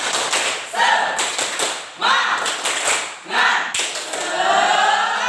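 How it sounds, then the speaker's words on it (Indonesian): Indonesian classroom pupils do a rhythmic spirit clap together, with loud, close bursts of clapping in short patterned groups and a few pauses between sets. "1, 2, 3, tepuk semangat"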